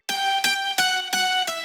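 Bright, layered progressive house synth lead processed with effects, playing five sustained, harmonically rich notes in a steady rhythm, each with a sharp attack that blends into the next.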